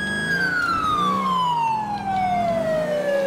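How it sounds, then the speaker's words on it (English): Police car siren in the video game GTA IV with the LCPD First Response mod: one loud, clear wailing tone that sweeps slowly downward in pitch, heard on its own without talk. "we're pulling our sirens on"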